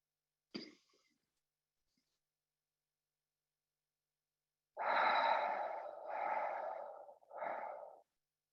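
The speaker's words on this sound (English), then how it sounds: "Continue breathing with the 3-part belly breath here." During beginner yoga practice, a short breath is followed by a long three-stage belly breath exhaled in distinct, softly rushing segments, close and alone in a quiet room.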